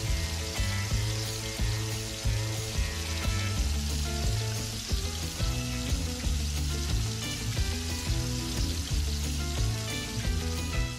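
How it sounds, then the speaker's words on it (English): Burgers and bacon sear in a hot pan, giving a continuous, fairly loud sizzle that holds steady throughout with no talking. "Sear the burgers and the bacon on both sides."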